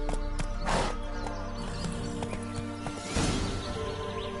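Horse hooves clip-clopping at a gallop in The Witcher video game, steady rhythmic beats with a couple of louder surges, close and fairly loud against a busy game soundscape.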